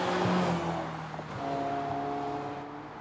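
A Ferrari sports car engine hums steadily while cruising at around 70 km/h, with a smooth, moderate drone and no speech, the tone shifting slightly as the car rolls on and picks up again.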